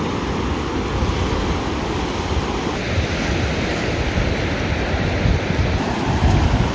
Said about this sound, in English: Who will dare brave the treacherous waves of the sea?